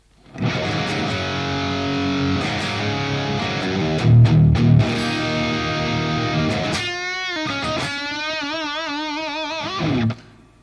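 Electric guitar with an HF Origin mod played straight into the amp, sustained distorted chords with a wash of reverb, then bending, warbling lead notes toward the end, loud and continuous.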